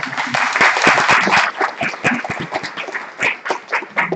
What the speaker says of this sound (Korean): 저희 친구들한테 좀 박수 한번 드리겠습니다